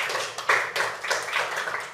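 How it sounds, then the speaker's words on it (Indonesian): Audience members clap their hands in a classroom session after a cooperative group presentation. The claps come in uneven bursts, moderately loud and fairly close, and no voices are heard over them. "Berikan tepuk tangan sekali lagi."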